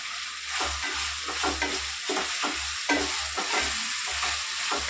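Curry leaves and ginger paste fry in oil for a fish curry, with a bright, dense sizzle and rhythmic stirring scrapes of a spoon in the pan, close and steady throughout.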